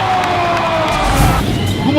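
Basketball arena crowd cheering after a slam dunk in a Tropang Texters versus Rain or Shine elimination game, a loud dense roar of many voices with shouts, sustained throughout.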